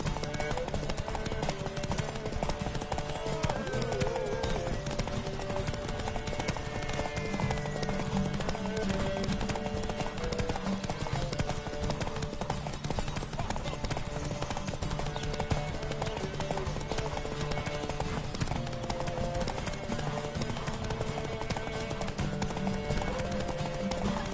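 Roach, Geralt's horse in The Witcher 3, gallops steadily, a continuous clip-clop of hooves running the whole length over game music and ambience, with no talk.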